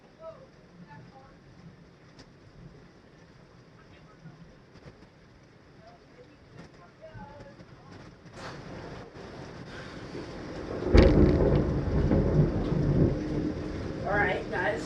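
Heavy rain and thunder from a 2019 hurricane, starting as a quiet, steady hiss and building into a loud, dense roar of pounding rain and rumbling from about the eleventh second on.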